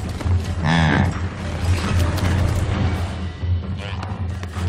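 Mother yak lowing loudly while defending her calf from a snow leopard, a couple of close, drawn-out moos over a steady low rumble and background noise.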